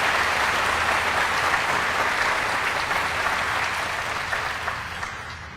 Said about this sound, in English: give them a round of applause for being here to support us